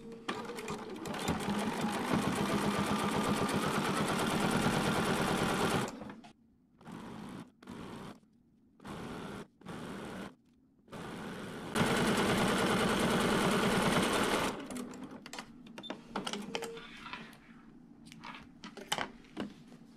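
A sewing machine stitches a zipper onto a quilted pillow backing in a steady whirring stitch, then stops and starts in several short bursts before running continuously again, with a few clicks near the end.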